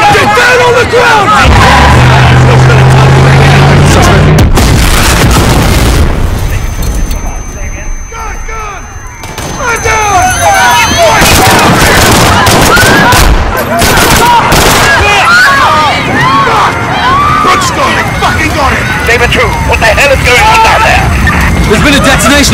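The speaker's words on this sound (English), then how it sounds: "Detonation at Piccadilly Circle. Shots fired." A blast followed by heavy gunfire in a Call of Duty: Modern Warfare (2019) street battle at Piccadilly Circus, loud and dense, with bursts of shots and chaotic noise running throughout and voices shouting underneath.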